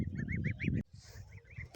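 Goslings and geese grazing make soft, repeated chirping calls, a run of close peeps at first, then fainter, sparser calls after a sudden drop in level.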